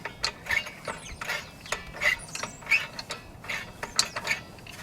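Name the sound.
prying the star adjuster of a Nissan Altima parking brake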